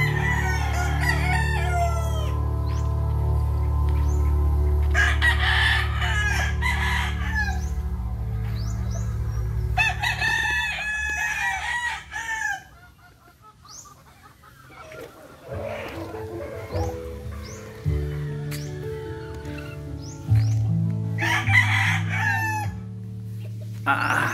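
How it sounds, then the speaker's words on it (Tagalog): Chickens and roosters in Dolores, Quezon, with several roosters crowing repeatedly, some close and loud and others farther off, plus clucking in between and a quieter stretch in the middle. "Sarap sa pakiramdam talaga pag marami kang alagang manok"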